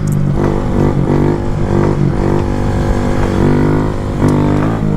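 A Honda Grom stunt motorcycle engine runs loud and close, with a continuous rough drone whose pitch wavers up and down as the throttle is worked.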